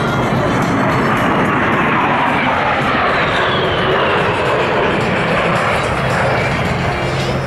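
Military jet flyby at Hill Air Force Base by a 2012 USAF flight test squadron aircraft, an F-16, F-22 or A-10: loud, continuous broadband engine roar filling the whole stretch with a slowly shifting whine, no talking.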